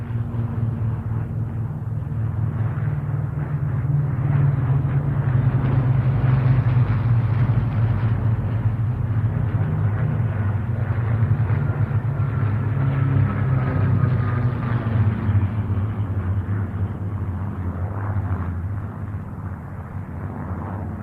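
An aircraft formation flypast that includes a Spitfire and a Hispano Buchon produces a loud, sustained engine drone that swells and fades slowly, with no talk.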